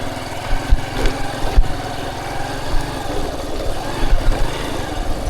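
A motorbike ridden off-road across a dried-up wetland, its engine droning steadily up close with uneven bumps and rattles from the rough ground and faint wind noise.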